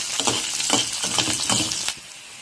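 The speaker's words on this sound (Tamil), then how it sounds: "பூண்டு நல்லா வதங்கிருச்சு" Large garlic cloves, split in two, sautéing in a pan for a garlic tomato chutney, a loud close sizzle with a few stirring scrapes that drops off abruptly near the end.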